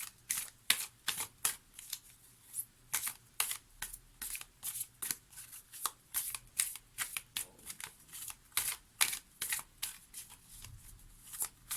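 A deck of oracle cards is shuffled and drawn by hand, giving a rapid, irregular run of crisp riffling and slapping bursts, close and fairly quiet, with no talking.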